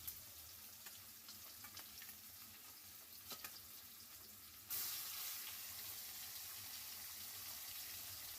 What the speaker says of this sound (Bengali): বাকি পেঁয়াজ ভাজার মধ্যে পেস্ট করা মশলা, জিরে গুঁড়ো, নুন ও হলুদ দিয়ে ভালো করে কষিয়ে নেব।